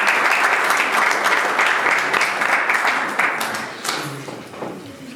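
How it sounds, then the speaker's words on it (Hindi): A church congregation applauds steadily, a dense wash of clapping that stays loud at first and then thins and fades toward the end. "आपकी बहुत सारी तालियों में"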